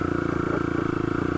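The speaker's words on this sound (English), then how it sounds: "Clutch out. Give it more revs." A Honda CB125F motorcycle engine runs with throttle applied after the clutch is let out, giving a loud, close, rapid and evenly pulsing exhaust throb with no talk over it.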